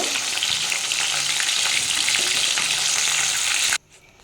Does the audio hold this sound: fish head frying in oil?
yes